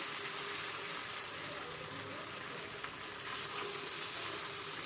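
Wheat flour pudla batter sizzling on a hot tawa, a faint, even hiss that holds steady throughout, no talking.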